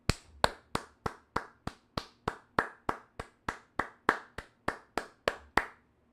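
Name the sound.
applause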